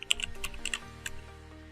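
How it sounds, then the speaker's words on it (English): Computer keyboard typing a short command, a brief quick run of crisp close keystrokes that fades within about a second. "you need to type this npm audit"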